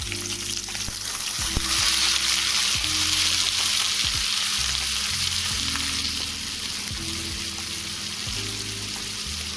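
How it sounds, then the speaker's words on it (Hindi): Mixed vegetables frying in hot oil for a veg handi, a loud continuous sizzle with repeated clanks of a spoon stirring the pan, close up and steady, with no talking. "ऑयल अब अच्छे से गर्म हो चुका है, तो चलिए सारे वेजिटेबल डाल देते हैं फ्राई होने के लिए।"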